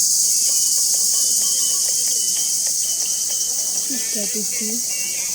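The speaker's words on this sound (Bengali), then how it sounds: "দেখছো শব্দ ঝিঝি পোকা।" Crickets chirp loudly in a dense, unbroken high-pitched drone at a rural in-laws' home in Dohar. A few faint bird-like calls rise briefly near the end.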